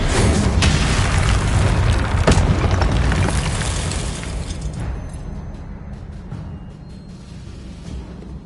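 Confringo blasting spell explosions from the video game Hogwarts Legacy, a loud continuous booming roar of blasts and crackling debris that slowly fades and thins toward the end.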